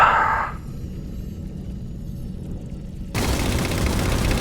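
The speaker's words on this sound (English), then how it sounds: "Gunfire! Woo!" Dense, sustained gunfire from a Halo machinima battle bursts in after a near-quiet stretch, loud and continuous to the end.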